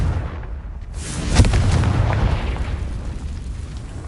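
A Confringo fire spell explodes in Hogwarts Legacy, a sudden loud booming blast with a rumbling, crackling roar that carries on for several seconds.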